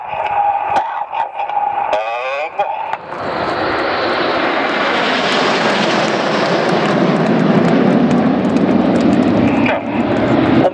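Jet engines roar as a Red Arrows display aircraft flies past at the Wings & Wheels air show at Dunsfold in 2013. The engine noise swells from a few faint ticks into a loud, sustained, broad rumble.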